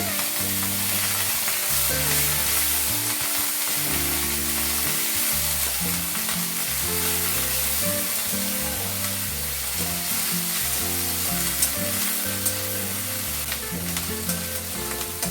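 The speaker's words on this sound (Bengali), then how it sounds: "পেঁয়াজটা অল্প অল্প ভাজা হয়ে গেছে" Onion paste fries in hot oil in a pan for a rohu fish curry, giving a steady, close sizzle with scraping stir strokes throughout and no talking.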